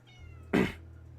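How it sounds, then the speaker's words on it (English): A cat gives a single short, clear meow up close against a quiet background hum. "You're a goofy cat."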